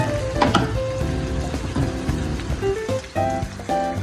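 Chicken pieces frying in a pan for chicken curry, a continuous crackling sizzle mixed with tonal music-like layers and light clinks, fairly loud throughout.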